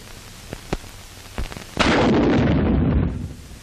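A 1945 military bazooka firing an MX301G wire dispenser for laying communication wire: a few sharp clicks, then a loud, booming blast that rumbles and roars for over a second before fading.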